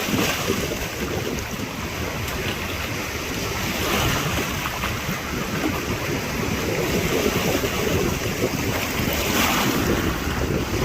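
Big sea waves wash and surge around a small boat improvised from a steel drum out at sea, a steady rushing roar of surf and water mixed with heavy wind buffeting the microphone throughout.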